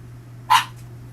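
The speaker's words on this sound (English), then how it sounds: "you're going to hear puppies in the background" A single short yip from a puppy, somewhat distant, over a steady low electrical hum inside a camper.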